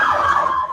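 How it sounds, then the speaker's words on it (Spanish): An ambulance siren, loud and brief, wails with a slowly falling tone as it passes, cutting through a Spanish-language philosophy class with no one speaking over it. "Solo pasa en la ambulancia"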